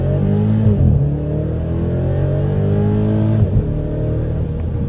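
A BMW X5M in sport mode accelerates hard from first gear, its engine note climbing loud and close before a quick upshift dip and another strong rising pull.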